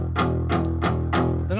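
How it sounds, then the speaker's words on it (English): Palm-muted cigar box guitar strings give a dull, thumpy tone: four short damped plucks in an even rhythm, close and moderately loud, closing with a brief slide. "I'm palm muting it, give it that thumpy sound."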